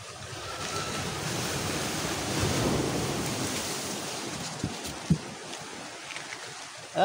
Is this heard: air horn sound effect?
no